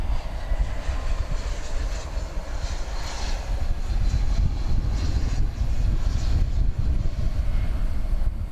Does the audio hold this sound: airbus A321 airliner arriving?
yes